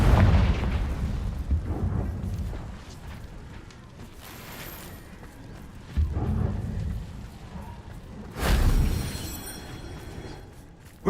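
Booming blasts from the Confringo spell in Hogwarts Legacy, a heavy explosion at the start with rumbling decay and further loud bursts midway and near the end.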